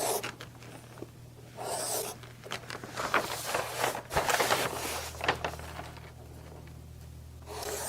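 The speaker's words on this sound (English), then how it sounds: "while I'm here, I'm going to draw the fence lines in" A pencil scratches out fence lines on a paper base plan in short, irregular strokes, close and fairly quiet, with soft breathing between bursts.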